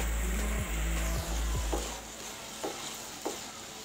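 Leftover boiled rice stirred into vegetables frying in a pan: a few rhythmic scraping strokes of a spoon over steady close sizzling, then lighter occasional scrapes.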